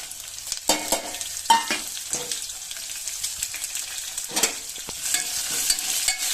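Garlic cloves, cumin and dried red chillies sizzle in hot oil for a chickpea-leaf chutney, a crackling fry broken by several clattering stirs of a spoon in the pan.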